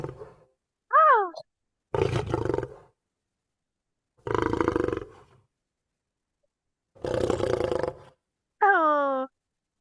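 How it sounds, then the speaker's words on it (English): Three deep, rough tiger roars, loud and close, separated by short silences and interleaved with brief excited exclamations from a voice. "it looks like a tiger."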